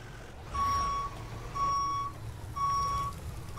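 A fire apparatus backs up at an emergency scene near exploding transformers, its reversing alarm sounding three steady, evenly spaced beeps over a low idling engine rumble.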